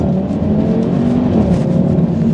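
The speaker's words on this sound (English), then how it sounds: "It's just such an interesting sounding engine." An Audi TT RS Plus engine pulls hard under acceleration, a loud, continuous growl heard from close by with no voices over it.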